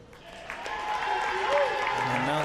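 A crowd applauds steadily at a youth hockey trophy presentation after the MLHA Classic finals against the Mt. Lebanon Hornets. Clapping swells and holds, with voices and cheers mixed in.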